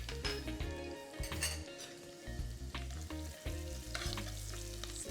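Asafoetida sizzles in hot oil in a pan for moong dal, a quiet continuous fry punctuated by repeated clinks and scrapes of a utensil stirring against the metal.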